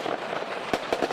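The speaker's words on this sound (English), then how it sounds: "It is the sound of fireworks." Fireworks going off: a few sharp, separate bangs with crackling tails in the second half, heard at a moderate distance over a steady background hiss.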